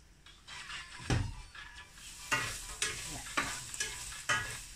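Onion and garlic sauté in butter with a soft sizzle, punctuated by about six distinct scraping stirs of a utensil against the pan at fairly regular intervals.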